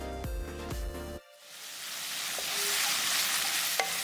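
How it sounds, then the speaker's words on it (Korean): Sliced pork belly hits oil in a stir-fry pan over medium heat, a soft sizzle quickly swelling into a loud, steady hiss after a short musical intro, with a faint clink near the end. "볶음팬에 바로 담고 중불에 올려서 식용유 2스푼 넣고 달달 볶아주고"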